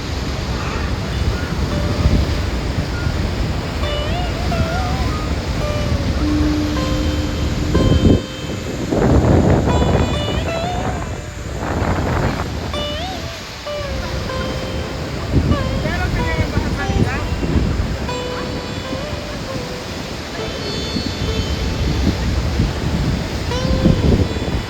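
A large waterfall, seen from ground level, sends up a constant broadband roar of rushing water, heavy with wind buffeting on the microphone, while muffled voices drift in and out.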